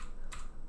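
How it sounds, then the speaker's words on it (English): The right arrow key on a computer keyboard is pressed twice, two crisp close clicks about half a second apart over quiet room tone. "I probably hit the right arrow key like 4 times"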